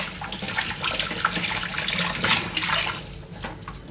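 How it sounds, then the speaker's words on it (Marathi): A live mud crab is rinsed clean of mud under a running kitchen tap, with a steady, close splashing rush of water that carries on without a break. "हा असा पुन्हा एकदा खेकडा स्वच्छ धुवायचा"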